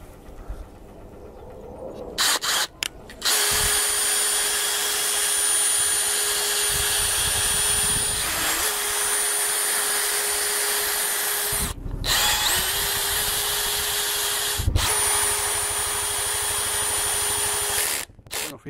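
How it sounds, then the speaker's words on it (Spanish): A cordless power drill drives screws into corner brackets on a wooden furniture build, whining loudly and steadily in several long bursts with brief pauses between them, close to the microphone. "ya atornillo todas las escuadritas de las esquinas"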